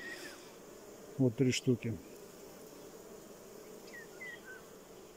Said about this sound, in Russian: Летная пчела вся вот здесь.